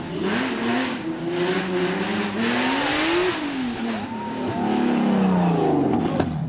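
A 4.5-litre supercar engine at a supercar weekend show roars loudly and continuously, its pitch rising and falling through repeated revs and surges, with tyre noise and crowd din underneath.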